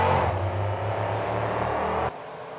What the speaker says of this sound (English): There it is, trucks are away.